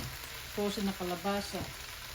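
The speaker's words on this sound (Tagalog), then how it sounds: "Halo ko na rin itong frozen na kalabasa." Frozen squash goes into a pan of mixed vegetables for pinakbet and sizzles briefly, a soft frying hiss that runs under a short burst of tonal voice-like sound.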